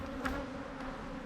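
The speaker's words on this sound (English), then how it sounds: "The bees will come with us." Bees swarm around a large, aggressive beehive that has been torn down, a dense, steady buzz close by with a faint passing drone.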